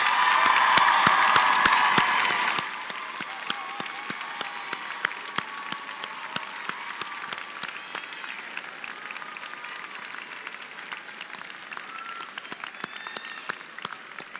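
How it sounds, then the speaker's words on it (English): A commencement crowd at the College of Charleston applauds families and friends. The clapping is loud and dense for about two and a half seconds, then thins to scattered, fading claps that trail on for a long stretch. "let's give your family, your friends, and your loved ones a great round of applause"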